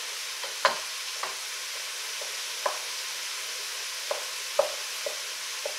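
Ground beef for chili browns in a pan while a wooden spoon breaks it into chunks: steady sizzle with about eight sharp scraping knocks at irregular intervals, close and clear with no voices.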